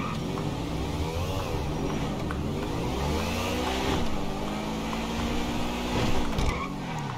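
A modified super car in GTA 5 drives with a steady engine drone that rises and falls through gear changes. Tires squeal briefly near the end, with no talking over it.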